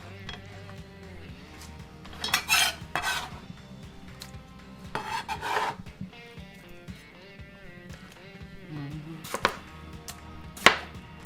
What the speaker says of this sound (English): You chop them kind of small too, because most of this tomato juice is what's gonna make our eggplant pickle tasty